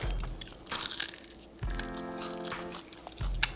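Loud, close crunching as crispy homemade French fries are bitten and chewed, several sharp crackly bites in a row.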